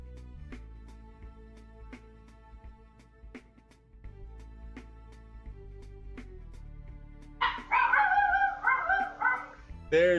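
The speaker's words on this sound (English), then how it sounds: "There's the barking dog." A dog barking in the video game Robocraft: a short burst of loud, close yips and barks arriving suddenly after a stretch of sparse clicks and tones from game sound.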